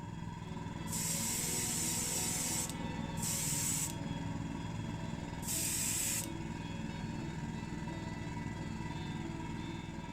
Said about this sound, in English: using the airbrush of course gets that much nicer finish